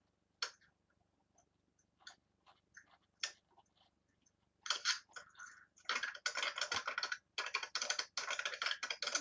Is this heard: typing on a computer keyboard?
yes